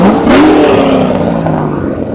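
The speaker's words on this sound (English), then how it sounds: "Rev that shit." A Corvette engine at a riverside car meet revs hard and close, a loud rising roar that holds and then slowly settles.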